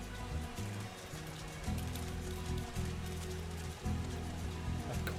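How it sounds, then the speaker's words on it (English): In the video game Final Fantasy XIV, steady rain falls near a waterfall, making a constant close wash of patter with a low rumbling layer beneath it and no break throughout. "Nice rainy weather for a waterfall."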